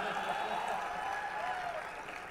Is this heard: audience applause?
yes